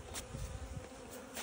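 Honeybees buzz densely at an opened hive, a close, continuous hum with a few louder passes as individual bees fly near.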